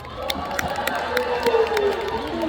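A concert audience at a live show cheers and claps continuously, a dense crowd roar with scattered sharp claps and shouts rising and falling, and a voice briefly audible within the noise.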